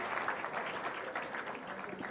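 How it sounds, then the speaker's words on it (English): An audience at an innovation awards ceremony applauds in a steady, dense patter of clapping that fills the room and holds at an even level throughout, with no speech over it. "give a nice big round of applause"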